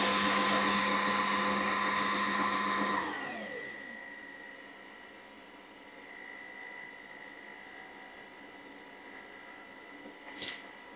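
A loud, high-pitched whirring motor of a Mova M50 Ultra robot vacuum dock self-cleaning runs, then winds down after a few seconds, leaving a quieter low drone with a brief click.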